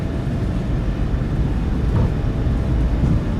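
A PMDG Boeing 737-800 in the MSFS2024 flight simulator roars at takeoff power, a loud, steady, broadband engine rumble holding constant throughout.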